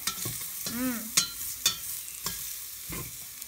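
Garlic frying in a pan for stuffed cabbage soup gives a steady sizzle with a few sharp clinks of a utensil stirring against the pan, close and moderately loud, and one brief tonal squeak partway through.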